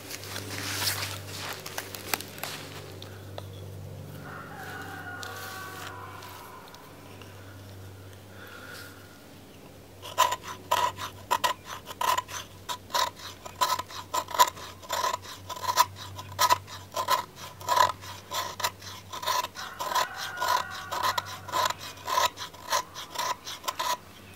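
Knife spine scraping pine fatwood into shavings, starting with some quieter rubbing and handling, then a close run of rapid, rhythmic rasping strokes, each a short dry scratch repeated steadily.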